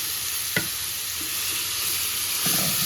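Pumpkin kheer ingredients sauté in a pan over low heat, giving a steady close sizzle broken by a sharp scrape of the spoon early on and more stirring near the end, with no talking.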